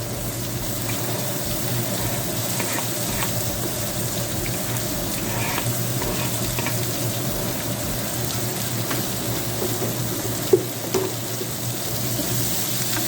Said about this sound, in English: Now we're going to add that onion to it